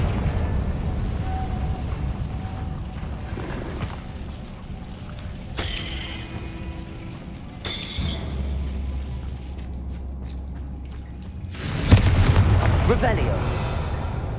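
Confringo fire spell explosions in the PC game Hogwarts Legacy, several booming blasts and whooshing bursts spread across the stretch, with the biggest impact near the end.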